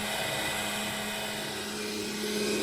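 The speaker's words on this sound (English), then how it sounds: "I like that you can see the auger working and crushing the fruit" A masticating juicer from Canoly runs its auger crushing watermelon, giving a steady motor whine and grinding hum, close and continuous with no talk.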